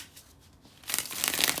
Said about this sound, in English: let me shuffle the tarot cards